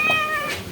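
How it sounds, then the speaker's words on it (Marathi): A cat meows close by in a single short, fairly quiet call with a wavering tone, encountered outdoors on a trip near a temple. "ये देखो मांजर मांजर"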